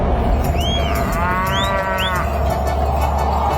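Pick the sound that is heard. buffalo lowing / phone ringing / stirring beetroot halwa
buffalo lowing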